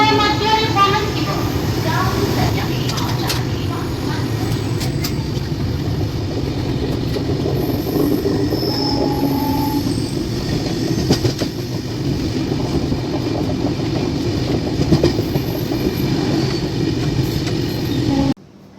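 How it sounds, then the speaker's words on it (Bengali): Humsafar Express rolling into Bhubaneswar station, a loud continuous rumble of carriages and rhythmic wheel clatter heard from inside the train, with occasional squeals, people talking over it, ending abruptly. "আমাদের ট্রেন এসে পৌঁছালো 3 নম্বর স্টপেজ ভুবনেশ্বরে।"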